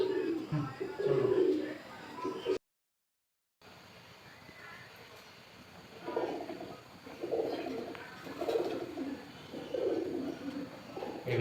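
Fantail pigeons kept as fancy birds cooing close by, soft throaty rolls in repeated bursts under background noise, with a short gap of silence partway through and a person talking at times.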